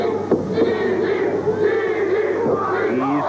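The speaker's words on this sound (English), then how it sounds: "Easy chant the crowd" A wrestling crowd at a 1990 catch wrestling bout chants "easy" in rising, drawn-out vocal swells, a dense mass of voices filling the hall.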